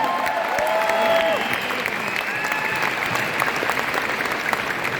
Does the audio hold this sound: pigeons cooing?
no